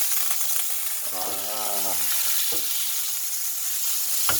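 Butter melts and sizzles in a small hot frying pan, a steady crackling fizz throughout, with someone briefly speaking over it.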